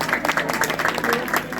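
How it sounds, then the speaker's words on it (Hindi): Applause for a speaker at a village gathering in Jauljibi, a short burst of uneven hand clapping from a modest crowd, fairly close, with faint voices beneath. "जोरदार तालियां इनके लिए"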